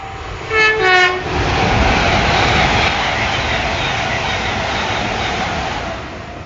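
A passenger train passes the York sidings on the East Coast Main Line, opening with a loud two-tone horn blast that gives way to a steady, close roar of the train rushing by.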